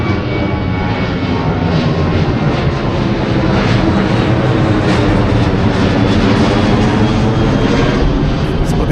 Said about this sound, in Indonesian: Kita lihat pesawat terlebih dahulu ya